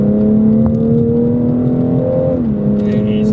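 A BMW M240i pulls hard in fourth gear, its engine note a loud, steady drone throughout, with a slight pitch dip near the end and a faint high whine at the close.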